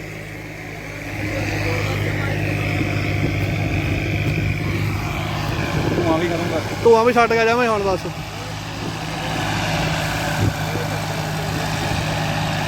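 A farm tractor engine fitted with a turbo runs at a steady, rumbling idle with a continuous low drone, while people talk over it and a brief rise in engine noise comes midway.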